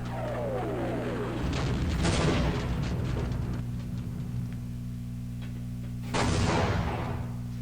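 Hand grenade explosions in Half-Life, the Forget About Freeman chapter: two booming blasts a few seconds apart, each with a crackling burst over a steady hum of game music and ambience.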